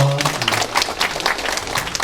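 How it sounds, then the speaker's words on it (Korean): A Korean youth mentoring talk event audience applauds the incoming moderator, a short burst of crowd clapping that is loud at first and then settles, with brief tonal sounds at the start. "강수영 이사님께 큰 박수 부탁드리겠습니다"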